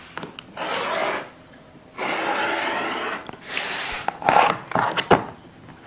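Fabric strip being cut with a rotary cutter along a ruler, several rough scraping strokes each lasting about a second, separated by pauses, close and fairly loud.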